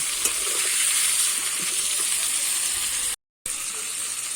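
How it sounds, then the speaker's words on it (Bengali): Chicken pieces frying in oil with turmeric and salt, a loud, steady, close sizzle that runs on with no break except one brief dropout. "অল্প করে লবণ দিয়ে আমি মাংসটা একটু ভালো করে ভেজে নেব"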